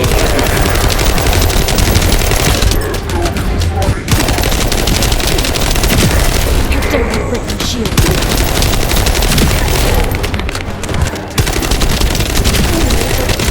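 The Thundercage weapon in The First Descendant fires in a loud, continuous rapid stream, its dense rattle running almost unbroken with only brief pauses, alone without talk.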